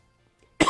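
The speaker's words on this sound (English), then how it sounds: "I'm going to try and keep that coughing down to a minimum." One sharp, close cough bursts out suddenly after a near-silent pause and then rings on briefly.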